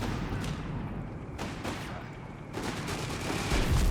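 Mortar and howitzer fire rumbles in the Company of Heroes 3 video game, a dense battle din of repeated thudding blasts and crackling gunfire, steady and fairly loud throughout.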